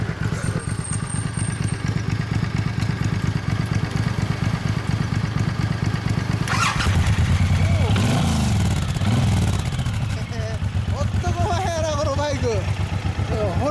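A Suzuki Boulevard M109R cruiser motorcycle idles with a deep, steady rumble, then revs up a couple of times before settling, with voices speaking nearby.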